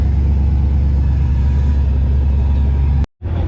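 A car engine, cold after sitting, running at the drag-racing pits; a loud, steady low rumble fills the clip, cuts out briefly near the end, then resumes.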